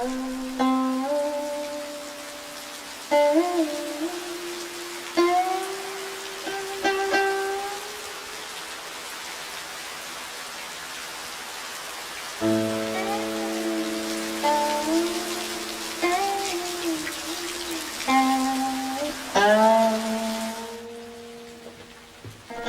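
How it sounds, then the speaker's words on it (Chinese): Rain drips onto bamboo tips at dusk on an autumn evening, a steady soft patter beneath sustained tonal, melodic sounds that rise and fall in phrases, with no speech. "兼着那雨滴竹梢，更觉凄凉"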